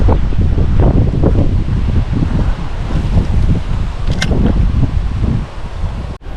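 Strong wind gusts across an open fishing spot by the water, a steady loud roar buffeting the microphone throughout with no voices.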